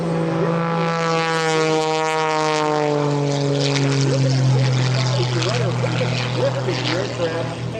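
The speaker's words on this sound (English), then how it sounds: "Now Kirby's going to slow it down from the right as he works his way down from altitude" A Red Bull Air Force aerobatic propeller airplane flying over the EAA AirVenture airshow. Its loud, droning engine tone sweeps in pitch as it passes overhead, and a commentator talks over it.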